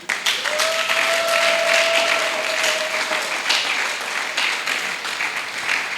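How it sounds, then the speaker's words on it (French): A church congregation claps and cheers in praise of God, a dense, steady wash of applause filling the whole stretch, with one long sustained tone like a held shout or note rising above it early on. "Est-ce qu'on peut bénir notre Dieu par les acclamations?"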